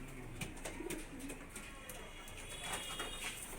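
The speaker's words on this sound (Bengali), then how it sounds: "দাদার পায়রা দেখি হাই ফ্লায়ার পায়রাও আছে, লো ফ্লায়ারও আছে।" High flyer pigeons in Nabadwip give soft, repeated throaty coos in a quiet setting, low in level with brief higher chirps and clicks scattered between the calls.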